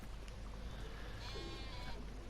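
Sheep bleat in the farming video game Farming Simulator 19, a wavering, slightly high-pitched cry rising mid-clip over a steady noisy background.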